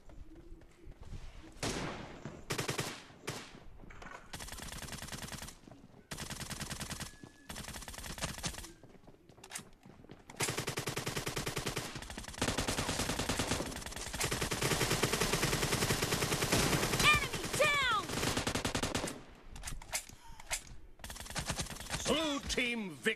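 Groza assault rifle gunfire in a battle royale video game, repeated loud bursts of automatic fire with short pauses between them, interspersed with other in-game shots and someone talking excitedly over the action.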